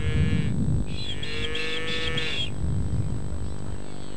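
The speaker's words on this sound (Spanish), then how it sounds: "Eso es una vaca que nunca había comido." A cow lets out a drawn-out moo over steady low rumbling background noise, nearby and fairly loud.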